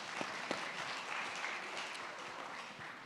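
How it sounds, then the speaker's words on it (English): Steady applause from a crowd fills the clip, a dense wash of clapping at even loudness throughout. "A round of applause for Kwame."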